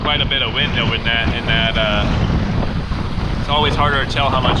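Strong wind roars over the microphone aboard a sailboat at sea under two reefs in a squall, with rushing water and wave noise throughout and a voice speaking over it.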